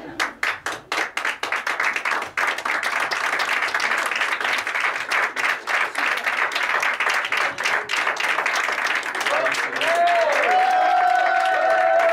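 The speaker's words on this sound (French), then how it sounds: "On peut applaudir très fort Valentine et Juan" Audience applause at an improv theatre festival in Paris, starting as scattered distinct claps that swell into loud, dense clapping from a crowd, with some voices and whoops near the end.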